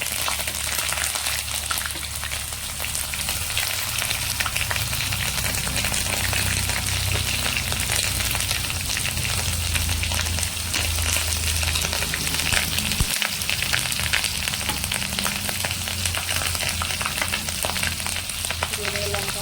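Hilsa fish frying in a pan with onion paste and mustard paste, a steady dense sizzle and crackle running throughout, close and fairly loud, with no talking.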